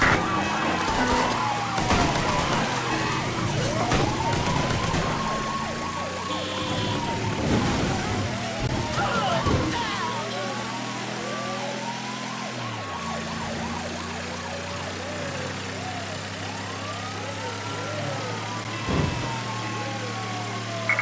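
Several police sirens wail and overlap throughout a Mafia III game scene, rising and falling steadily over a constant engine-like drone, with a brief louder burst near the end.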